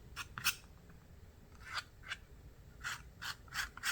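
A palette knife scrapes across paint in short, quiet strokes, about eight scratchy passes coming in uneven bursts with soft gaps between them.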